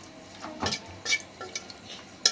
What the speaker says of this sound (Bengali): শুকনো মরিচটাকে ভালো করে ভেজে নিতে হবে